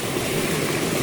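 Waterfall on a mountain trek to a fort, a dense, steady roar of falling water filling the whole clip at close range with no voices.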